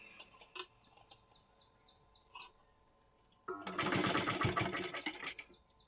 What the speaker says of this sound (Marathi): बरोबर मधल्या खाचीमध्ये शिलाई द्यायची आहे एकदम सावकाश करायचा आहे